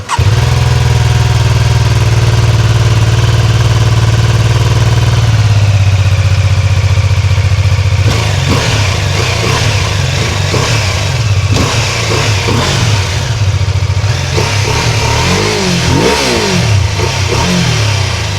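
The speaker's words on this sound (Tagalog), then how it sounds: "Ito naman ang twin cylinder engine na naka 135 degree crank." BMW F450 GS twin-cylinder engine with a 135-degree crank, idling close and loud at a steady low throb before several rising and falling revs in the later half.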